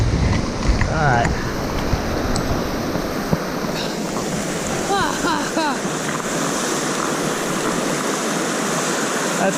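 The Fryingpan River rushes steadily on a rainy evening, a broad, continuous wash of flowing water close by, with brief chirps and small clicks scattered over it.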